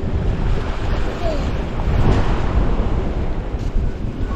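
Ocean surf at Malvan beach rolls in as a steady, loud wash of breaking waves mixed with wind buffeting the microphone, continuous throughout with no talking.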